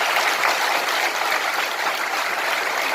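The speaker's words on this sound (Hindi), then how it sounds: "ताली बजाओ, अभिनंदन करो।" An audience at a spiritual discourse gathering in Rajnandgaon claps together in a dense, continuous wash of applause that holds steady and fairly loud throughout.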